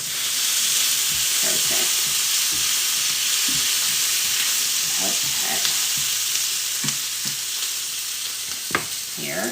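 Carnitas sizzle and fry in a hot pan as green onions, cilantro and lime juice are tossed through, with a constant loud crackle and occasional stirring scrapes. A voice briefly speaks near the end.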